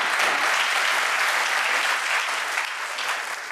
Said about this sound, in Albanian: Një duartrokitje.